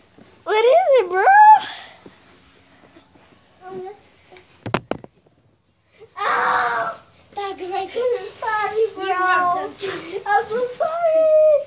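A dog whimpers and whines in high, wavering yelps, with short bursts early on, a brief silence, then a longer stretch of continuous whining close by.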